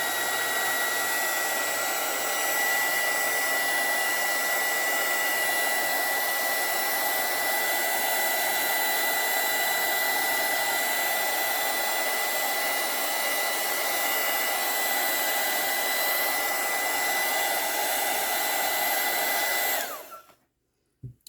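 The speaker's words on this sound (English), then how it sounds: "So I'm going to use the heat tool to kind of help this along." A heat tool blows steadily to dry watercolor paint on a crocus flower painting, a continuous loud whirring hiss that runs alone for about twenty seconds before switching off.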